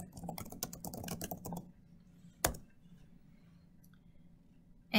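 A burst of quick keystrokes on a computer keyboard types a search term, followed by a single sharp click and quiet room tone before another tap.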